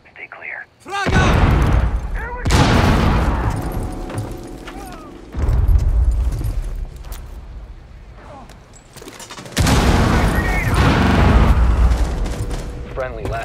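A frag grenade blows up amid gunfire in a tactical shooter match, with loud, repeated booming blasts and bursts of shots across the stretch, separated by brief quieter gaps, while voices call out over the action.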